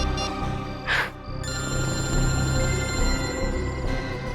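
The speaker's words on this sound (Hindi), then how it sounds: "दया सर को फोन लगाता हूँ।" A telephone rings during an outgoing call from a mobile in a TV crime drama scene, with a steady ringing tone sitting over a busy background, moderately loud.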